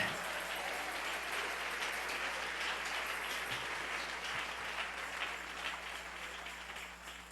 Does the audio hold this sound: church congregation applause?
yes